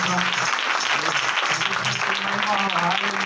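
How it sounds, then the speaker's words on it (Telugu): Congregation clapping loudly at a church dedication service, a dense, continuous patter with a voice talking over it throughout. "प्रभु यीशु मसीह आए तो और कितना जोर ताली बजाना चाहिए"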